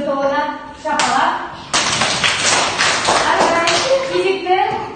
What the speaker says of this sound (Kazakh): Хоккейшілер тобына шапалақ.